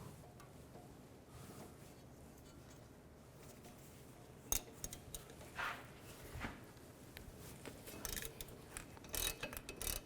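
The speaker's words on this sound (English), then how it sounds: "So there's 3 bolts in the back of this hub. There's one right here. I'm going to use a 18mm socket." Ratchet wrench with an 18mm socket loosening the rear hub bolts on a 2003–2007 Cadillac CTS front wheel hub, heard as a close run of clicking pawl ratchets and metallic turns, growing busier in the second half over a steady workshop hiss.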